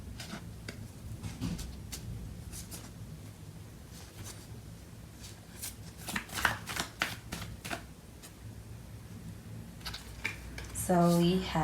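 Tarot cards are shuffled by hand in soft, close, irregular riffles and flicks, fairly quiet, with a brief voice at the very end.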